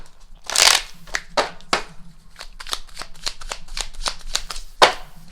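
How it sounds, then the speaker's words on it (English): Tarot cards being shuffled up close, a loud riffle followed by a quick string of crisp card snaps and flicks, with no voice. "We're pulling 3 cards to understand how this person views you."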